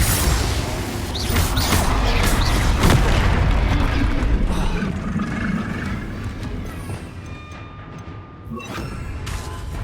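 Spell explosions from the PS4 game Hogwarts Legacy form a loud, continuous wash of booming blasts and rumbling impacts that overlap without a break and fade slightly toward the end.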